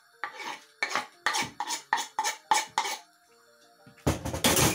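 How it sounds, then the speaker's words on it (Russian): Fish head soup being stirred in a cooking pot with a utensil, giving about eight rhythmic scraping clinks against the pot, close and clear, followed by a louder burst of broad noise at the end. "Все, размешиваем."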